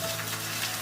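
Homemade chicken nugget squares pan-fry over low heat just after being flipped, giving a brief, steady, soft sizzle close by.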